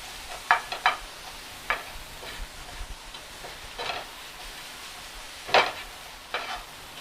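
Vegetables and onions cooking down in a pan for breakfast burritos: a faint low sizzle with a few sharp clinks and scrapes of stirring scattered through, no talking.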